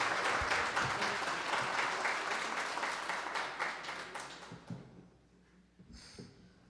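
An audience applauds in a steady patter of many hands during a worship music performance in Curitiba, the clapping gradually thinning and fading out, followed by a few knocks and near silence.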